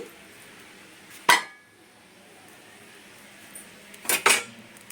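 Fried dibba roti made from idli batter being placed onto a plate, with two short clinks of utensil against dish separated by a quiet pause.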